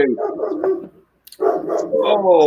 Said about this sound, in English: Whose dog's barking?